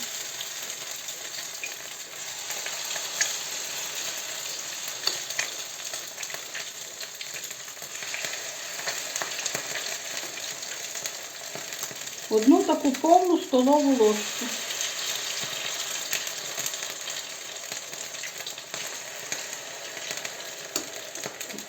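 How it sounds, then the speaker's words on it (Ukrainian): Steady oil sizzling and crackling of potato pancakes frying runs throughout at moderate level, with a brief burst of a woman's speech partway through. "Отак мають в олії смажитися"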